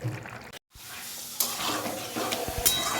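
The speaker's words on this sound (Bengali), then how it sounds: "আবার ভালো করে নেড়ে চেড়ে নিচ্ছি।" Lotte fish curry being stirred in a pan with coriander leaves, a steady close sizzle broken by a brief silent gap, with sharp scraping clicks of the spoon against the pan.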